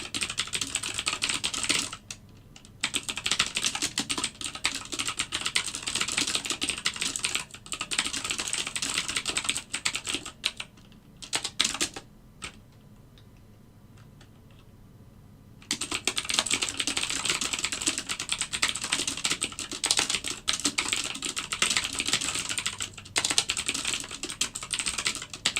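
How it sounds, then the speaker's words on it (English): Fast, rapid clicking keystrokes on a computer keyboard during live algorithmic trading go on steadily for most of the stretch, break off into near silence for a few seconds midway, then resume at the same close, busy pace. "Sorry for all the typing."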